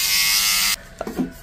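An electric toothbrush whirs loudly with a high, steady buzz for under a second, then switches off, followed by a few soft handling clicks.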